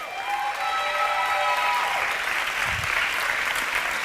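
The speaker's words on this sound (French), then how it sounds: "Applaudissez-les bien fort," Audience applause for the Belle de France semi-finalists at a French beauty pageant show, steady dense clapping throughout, with music tones fading over the first two seconds.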